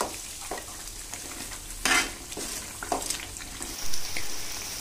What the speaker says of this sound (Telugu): మిశ్రమాన్ని కరివేపాకులో వేసి బాగా ఫ్రై చేయాలి.